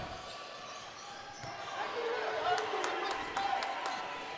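Loud gym crowd noise at a girls' varsity state-tournament basketball game, with sharp ball bounces and several brief whistle-like bursts rising over steady chatter and voices.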